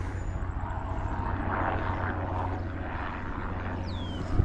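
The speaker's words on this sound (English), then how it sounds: "This is a helicopter." A helicopter flying overhead above rural pasture at evening, its rotor thudding as a steady low rumble that stays constant throughout, moderately distant, with a faint bird chirp near the end and no talking.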